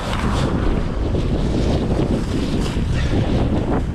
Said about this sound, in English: I'll say one thing, it's windy.